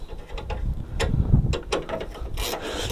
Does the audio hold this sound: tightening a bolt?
yes